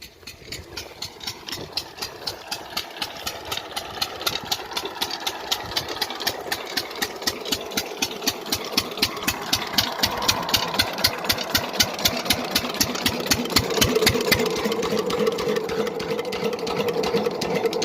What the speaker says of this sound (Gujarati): ચાલો તો મશીન જો બંધ કરી દીધું